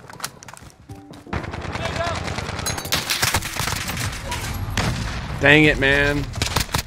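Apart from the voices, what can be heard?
AK-47 gunfire in Modern Warfare video game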